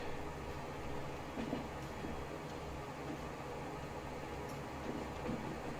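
A train runs on tracks in the Transport Fever 2 video game, giving a steady rumbling rail noise with a constant hiss throughout and no talking.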